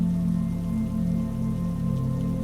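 Rain falling on a rainy night, a steady soft patter over a constant low hum, continuous and unchanging with no voices.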